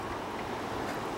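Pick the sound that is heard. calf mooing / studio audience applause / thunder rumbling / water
water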